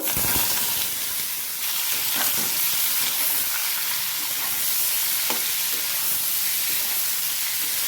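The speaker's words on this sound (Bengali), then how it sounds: "কিছুক্ষণ ভাজা ভাজা করে নেব।" Boiled bitter gourd frying in a wok with bay leaf and dried and split green chillies, giving a steady, loud sizzle with occasional stirring clicks throughout, no voices.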